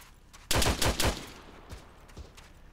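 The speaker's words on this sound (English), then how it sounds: "we got a PK gunner on the west side of this wall somewhere" A PK machine gun fires a short burst of four or five loud, close shots in ArmA 3, followed by a couple of fainter, more distant shots.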